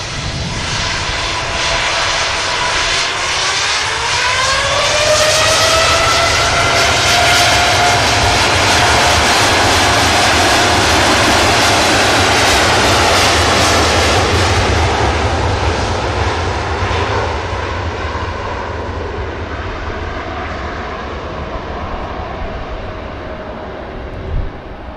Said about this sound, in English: And another rolling start from the heavy